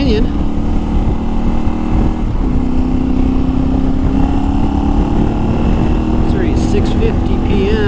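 A Yamaha Tenere 700 motorcycle rides along, its engine a loud, steady close drone with wind rush and a slight pitch rise midway through.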